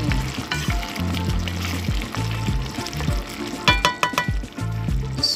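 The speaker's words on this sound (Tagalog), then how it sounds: "at lutuin ang sitaw" String beans cook in a chicken and coconut milk stew, giving a loud, busy bubbling sizzle. Low, thumping stirs and scrapes come through repeatedly close up, with no talking.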